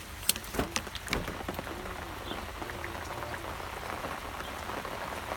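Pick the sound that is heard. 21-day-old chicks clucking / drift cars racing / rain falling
rain falling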